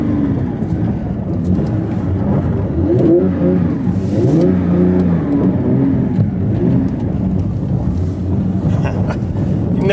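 A Porsche 992 GT3, a rear-wheel-drive sports car, doing donuts on a wintry surface, its engine droning and revving steadily and loudly throughout amid wind buffeting on the microphone.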